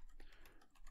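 Computer keyboard typed on while writing Java code, a quick run of light, close key clicks in an uneven rhythm.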